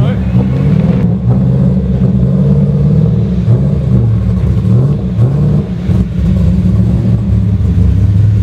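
A drift car's engine held under throttle at an event, a loud, continuous droning roar with wavering pitch, close by and filling the whole stretch without letting up.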